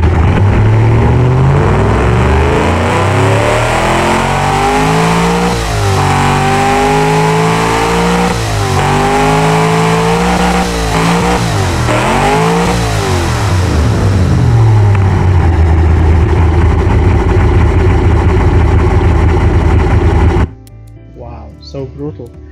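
Car engine with twin DCOA carburetors in the Automation car game, revving hard in several rising and falling sweeps before settling into a steady buzzing drone that cuts off abruptly near the end; loud and close.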